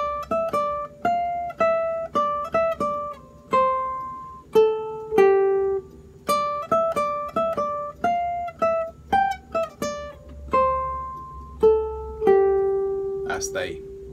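A guitar plays a melodic phrase, plucked single notes moving up and down the fretboard in a steady flowing line, close and clear, ending on a sustained note.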